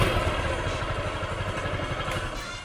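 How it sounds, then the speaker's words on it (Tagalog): A TVS Dazz 110cc scooter engine runs at idle just after starting, a fast, even putter with a light mechanical clatter that stays steady and moderately quiet throughout. "There's that all too familiar modern scooter sound."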